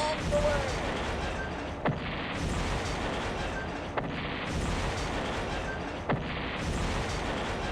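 Artillery strikes on tank destroyers in the Shadow Empire strategy game, heard as three sharp booming impacts spaced about two seconds apart over a dense, steady rumbling game soundscape.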